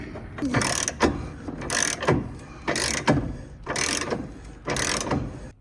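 A 7/8 socket wrench ratchets a plumbing fitting tight, repeated bursts of close, rapid metallic clicking in steady strokes about once a second, with brief pauses between.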